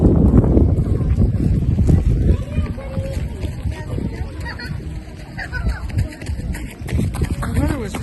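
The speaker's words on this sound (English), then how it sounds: "It's taken a turn for the windy and cloudy now" Strong wind buffets the microphone with a constant low roar and rumble at a horse race meeting, while people talk underneath it.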